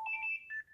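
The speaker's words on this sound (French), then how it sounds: "je suis désolée, c'est mon téléphone." A mobile phone ringtone chirps in short electronic tones, a steady high melody with pitch steps, alone and fairly quiet.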